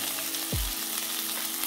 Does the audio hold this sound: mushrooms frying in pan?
yes